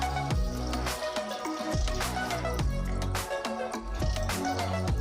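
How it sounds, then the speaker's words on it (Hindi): Water is poured into roasted masala for dal makhani, giving a continuous gurgling, dripping splash with bubbling liquid sounds throughout, close and steady, with no talking. "अब हम इसमें डालेंगे पानी।"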